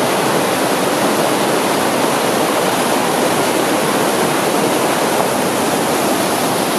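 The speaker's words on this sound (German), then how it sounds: "Wasser, unheimlich viel Wasser." A river near Sachrang rushes over rocks in a steady, loud, broadband roar of flowing water that stays constant and close throughout, with no voices.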